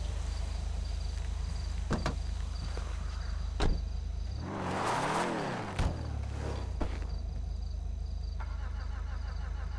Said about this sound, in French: Ma voiture démarre plus, attendez. J'essaye de démarrer.